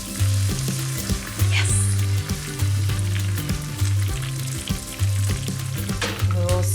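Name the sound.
coconut milk sizzling as it deglazes the frying pan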